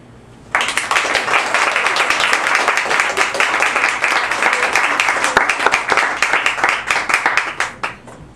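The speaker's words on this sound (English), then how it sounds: "Applause" Loud, dense audience applause bursts in suddenly at a grand opening party after a healing talk, many hands clapping steadily for about eight seconds before tapering off near the end.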